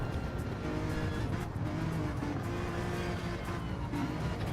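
A pack of GT race cars battles on track, engines droning loudly together with overlapping tones that rise and fall through gear changes, steady and close throughout, no talking heard.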